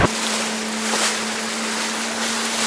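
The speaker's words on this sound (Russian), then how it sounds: "Вот на этом катерочке сейчас мы поедем, покатаемся." A small motorboat cruises on the sea at Vityaz Bay in Primorsky Krai, with a steady engine drone under broad rushing wind and water noise, close and continuous throughout.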